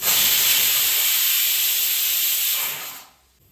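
Steam from a pressure cooker's whistle hisses loudly and steadily for about three seconds, then cuts off abruptly into quiet, with no voices.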